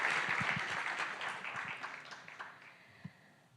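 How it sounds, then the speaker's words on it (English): An audience at a startup demo day claps for a presenter, with full applause that gradually dies down into a few scattered, separate claps near the end. "Now, let's give another round of applause for Matsumoto-san for giving such an incredible presentations."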